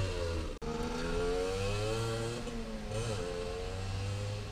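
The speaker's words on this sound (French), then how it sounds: "Petite moto sympathique Honda. J'attends qu'il passe, tu vois." A small Honda motorcycle passes on a road in Japan, its engine a steady, fairly loud mid-pitched drone that rises and falls in tone as it goes by, with no talking.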